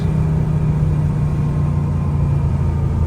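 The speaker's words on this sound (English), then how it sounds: "Give you guys a little downshift. Second gear." A Mercedes R129 SL500 with the 5.0 M119 V8 and an AMG muffler downshifting to second gear, giving a loud, steady, deep exhaust rumble that holds throughout with no voices.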